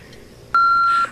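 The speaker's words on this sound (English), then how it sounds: "Please leave a message at the beep." A single electronic answering machine beep, a steady tone held for about half a second, loud and clean after a brief quiet moment.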